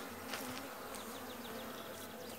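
Honeybees at a hive entrance after the front is closed off: a continuous close buzzing of many bees, with individual bees whining past in brief sweeps over the steady hum.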